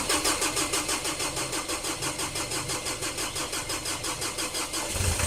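A Ford Everest that has stood unused for over a year cranks with a steady pulsing starter rhythm, then catches and fires into a running engine near the end, heard close and alone.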